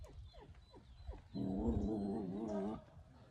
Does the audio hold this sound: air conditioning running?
no